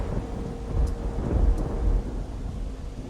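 Thunder and rain in the Train Simulator 2014 game: a deep, close rumble of thunder swelling and fading over steady rainfall, with no voices.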